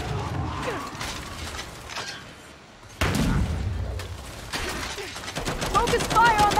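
Gunfire in the Gears 5 co-op campaign on Insane difficulty, bursts of rapid shots with mechanical clatter running through the whole stretch, loud and busy, with voices talking over parts of it.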